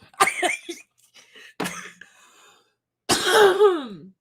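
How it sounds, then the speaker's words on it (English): A person coughs and clears their throat in three harsh, close bursts separated by short pauses. The last burst is the longest and rasps as its pitch falls. "I didn't mean to cough in y'all's fucking faces."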